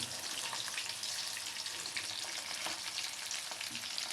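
Hilsa fish fries in mustard oil with a soft, steady hiss and light spitting pops, fairly quiet and even throughout, with no talking.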